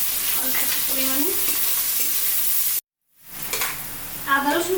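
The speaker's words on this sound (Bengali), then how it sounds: "এবার দিয়ে দেবো পেঁয়াজটা। এর মধ্যে কাঁচা লঙ্কা দিয়ে দিলাম অল্প পরিমাণে।" Onions and green chillies fry in oil in a pan, cooked with cumin for a fish curry. A steady, close sizzle runs throughout, cut by a brief silent gap before the frying resumes, with faint voices in the background.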